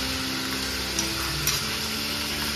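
Food fries in a pan with a steady, dense sizzle and occasional stirring scrapes, close and even throughout, with no voices.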